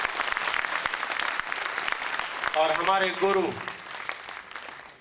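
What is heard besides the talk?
audience applause welcoming leaders at seminar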